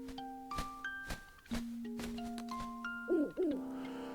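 Owl hooting in the video game Link's Awakening, a few soft synthesized tones and chiming notes with a wavering two-part hoot near the end, faint and alone without talk.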